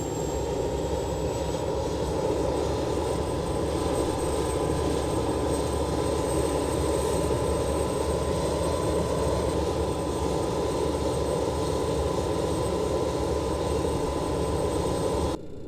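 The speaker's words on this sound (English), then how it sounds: "APU is spooling, doing its thing." Auxiliary power unit of a BAe 146 airliner in the X-Plane 11 flight simulator running with a steady, loud, continuous whine and rumble, a faint tone shift partway through, no voices.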